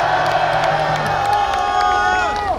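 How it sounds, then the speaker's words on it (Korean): A crowd at a Korean patriotic flag rally cheers and whoops to welcome a professor to the stage, a loud sustained roar with scattered clapping and shouting voices. "박수로 환영해 주십시오"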